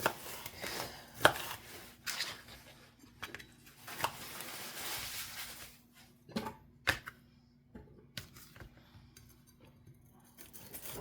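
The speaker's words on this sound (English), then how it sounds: "now we're just going to cut up these peppers" Knife chopping peppers on a board, a series of sharp irregular cuts with pauses between, fairly close and moderately quiet.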